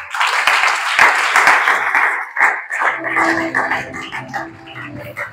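A church congregation applauds and acclaims the Lord during a sermon, dense loud clapping that thins after a few seconds into scattered voices and shouts.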